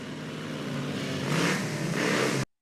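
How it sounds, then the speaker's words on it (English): A vehicle engine revs inside a building in a scene from the 1998 film Blade, a sustained loud mechanical roar that swells twice in pitch and intensity before cutting off abruptly. "He's just revving his engine in there."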